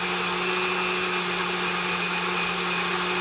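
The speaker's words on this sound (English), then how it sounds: "Come back over here to our blender, and if it starts to bog down, we add a tiny bit of milk." Blender grinding wheat berries with milk into pancake batter, a steady loud motor whine with a constant droning hum throughout, no talk.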